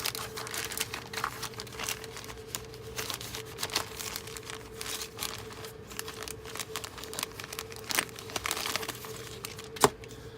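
Plastic bags holding screws and parts from a 1/48 HobbyCraft de Havilland Vampire Mk.I model kit being handled, giving steady close crinkling and crackling with a few sharper snaps, no talk.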